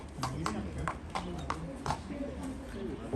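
Hooves of a four-year-old galloping racehorse on the Île de Ré clop in a steady, evenly spaced beat, fairly close, over outdoor background noise with faint voices.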